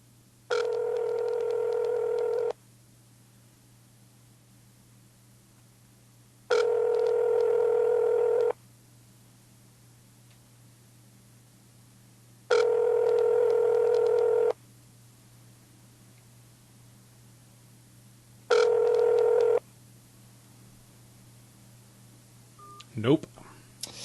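A telephone call rings out on the line: four evenly spaced two-second ringback tones with long quiet pauses between, steady and moderately loud over a low hum, followed by a brief click at the end.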